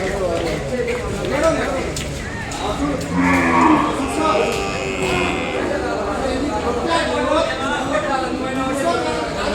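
Calves between six months and a year old moo at the Kodad cattle market, several lowing calls rising over steady crowd chatter and talk close by.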